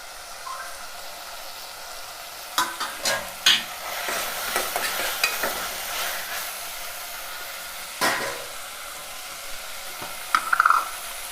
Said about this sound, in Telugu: కరివేపాకు వేస్తాను.